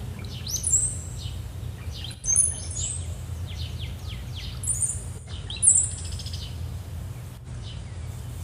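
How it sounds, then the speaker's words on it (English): Several birds chirp and trill in bursts over a low steady background hum, the calls fairly close and repeating irregularly. "you're welcome to meditate with the bird sounds if I stop talking"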